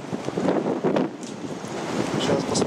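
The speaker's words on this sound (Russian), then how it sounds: "Здесь почему-то холодно из-за ветра, скорее всего." Strong wind buffets the microphone on Comino island, Malta, a loud, rough, continuous roar with gusty swells and no clear voices.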